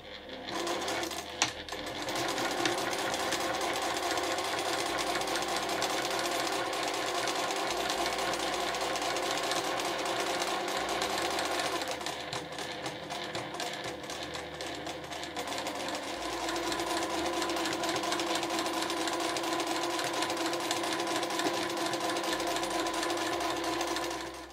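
A sewing machine stitches along both side edges of a fabric pouch in a continuous rapid mechanical whir, with one brief pause partway through before it resumes at the same steady pace.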